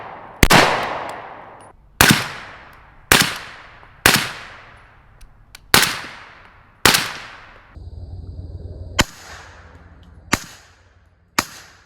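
Suppressed 300 Blackout shots from a 10.5 inch Noveske rifle fitted with an LMT ION 30 suppressor ring out about eight times at irregular intervals, each a sharp report with a decaying tail, close and without talk.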